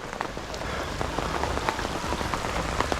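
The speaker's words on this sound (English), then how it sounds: "we had another rainstorm pop up here" Steady rainstorm falling on surfaces around a pond construction site, a dense close patter of drops with scattered louder splats throughout, no voices.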